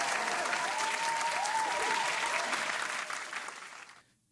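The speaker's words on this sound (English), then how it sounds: "Give him a hand clap." A crowd claps enthusiastically for a few seconds, the applause fading out quickly at the end.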